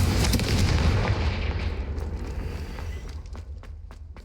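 Confringo fire spell blasts in Hogwarts Legacy, loud booming explosions whose roar decays into a rumbling tail with scattered crackles, no talk over it.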